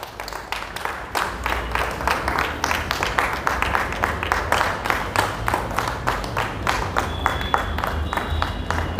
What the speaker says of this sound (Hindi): जोरदार तालियों से विनोद जी का सम्मान होगा फाइनेंस में PhD पूरी करने के लिए